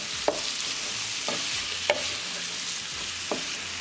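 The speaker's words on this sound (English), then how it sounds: "Now we'll bring tilapia fish. Mix it well." Tilapia fish pieces sizzle steadily with mixed vegetables in a pan, a continuous hiss broken by a few distinct scrapes of a spoon stirring at regular intervals.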